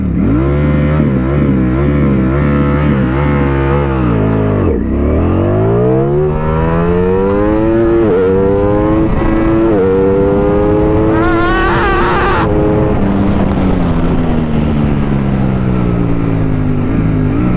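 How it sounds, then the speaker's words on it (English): A Ducati Streetfighter V4 SP2 sport motorcycle launching from a standstill at full throttle, loud and close, its engine note climbing sharply through several rapid upshifts, with brief crackles between gears, continuous and alone. "Pulling clutch, engage first gear, open full throttle."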